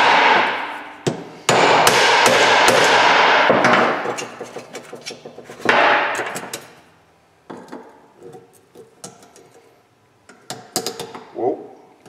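Heavy hammer blows driving a U-joint into an aluminium driveshaft yoke, loud close metallic strikes with ringing decay, a dense run of hits then scattered lighter taps fading toward the end, no talk.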